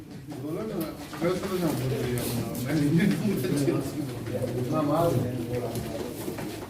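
Pigeons coo repeatedly at a busy pigeon auction in Turkey, their soft calls mixed in with steady bidding talk and chatter from several people nearby.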